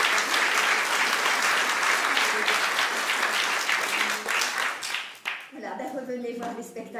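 A theatre audience gives sustained, loud applause after an amateur staging of Goldoni's comedy; the clapping thins and fades near the end as a voice begins speaking over the remaining claps.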